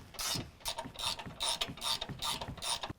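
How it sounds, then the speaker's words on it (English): A ratchet tightens the upper strut nuts on a 2017 Ford F-150 4WD during a lift kit install, giving about six quick, close bursts of rhythmic metallic clicking with brief pauses between strokes. "Now we're going to tighten our upper strut nuts to 35 foot-pounds."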